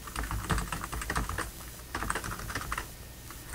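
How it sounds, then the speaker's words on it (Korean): Fingers tap steadily on a computer keyboard while HTML/jQuery code is entered, a quick irregular clatter of keystrokes heard close and alone, slowing briefly in the middle before resuming. "여기 이 괄호에서 엔터 두 번 치고, 펑션이 두 번 들어갑니다."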